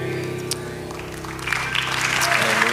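Church congregation applauding during a Spanish-language worship service, the clapping building from a light patter to a fuller, louder ovation under sustained organ or keyboard tones, with voices mixed in.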